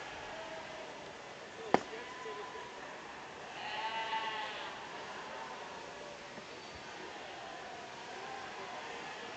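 A single drawn-out sheep bleat rises mid-clip at a livestock show ring, moderately close, over steady hall noise and low crowd murmur, with a sharp click shortly before.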